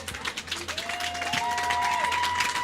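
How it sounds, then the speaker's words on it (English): Fans at a high school swim meet, Woodland Hills vs. Penn Hills, applaud a swimmer, a steady wash of clapping and crowd noise over a low hum, with a whistle-like tone gliding through the middle. "she deserves a round of applause here from the fans here at this meet"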